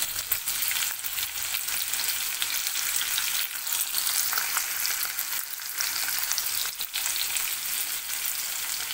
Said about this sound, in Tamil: இப்படி வெங்காயம் சேர்த்துக்கலாம். சேர்த்து நல்லா வதக்கிடணும்.